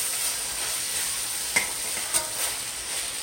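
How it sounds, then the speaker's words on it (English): Onions stir-frying in a pan as a steady, close sizzle, with a few brief clicks of a utensil stirring them. "You just stir fry those onions up in there real good."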